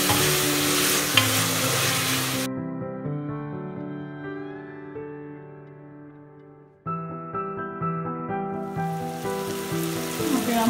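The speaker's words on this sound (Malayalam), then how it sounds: "കുറച്ച് കറിവേപ്പില നന്നായിട്ട് കീറിയിടാം" Torn curry leaves hit hot oil for a Kottayam beef curry. A loud hiss of frying opens and returns near the end, with instrumental music playing throughout and carrying alone in the quiet middle stretch.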